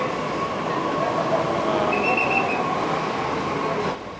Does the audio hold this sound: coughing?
no